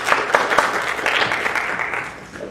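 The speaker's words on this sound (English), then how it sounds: "Go ahead and give him a round of applause." Audience applause for a student presenter at a high school senior capstone presentation, a steady dense round of clapping filling the room for the full stretch and tapering slightly at the end.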